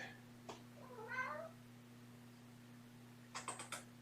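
Pet cats meow in a quiet bedroom with a steady electrical hum, one soft drawn-out meow followed a couple of seconds later by a quick run of short, faint chirping mews.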